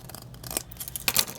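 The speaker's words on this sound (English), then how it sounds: "Let me get my longer scissors for this part." Long scissors snip through a plastic to-go cup in a craft project, several quick crisp cuts bunched in two bursts, close and clear with no talk.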